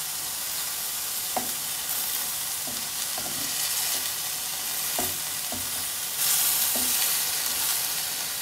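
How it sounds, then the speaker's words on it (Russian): Beef pieces frying in a pan for a Georgian chashushuli stew give a continuous, loud sizzle, with scattered clinks and scrapes of stirring over it. "Видите, она не пристает к дну сковородки и обжаривается."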